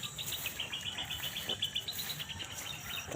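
Birds chirping on a dragon fruit farm, high repeated twittering calls over a steady hum of insects, faint and distant with no talking.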